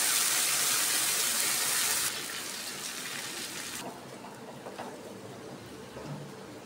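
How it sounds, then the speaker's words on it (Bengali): Water pours with a loud rushing splash into a hot pan of spice paste for a Bengali doi pabda fish curry, then eases into a softer, steady bubbling hiss. "আমি দিয়ে দিচ্ছি একটু জল"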